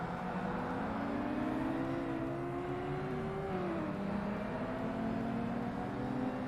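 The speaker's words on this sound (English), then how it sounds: "at least I can hear the engine a little bit better" A racing car engine in the Forza Motorsport video game hums and whines steadily at moderate volume, its pitch climbing and shifting as the car accelerates, with no voices.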